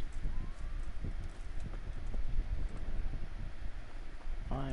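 Horse hooves clip-clopping in the medieval game Kingdom Come: Deliverance, a steady close rhythm of soft thuds over wind-like background noise, with no talking.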